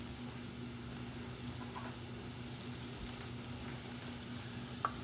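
Pork chops sizzle in a hot pan, making a soft, steady frying hiss over a low background hum, with a single small clink near the end.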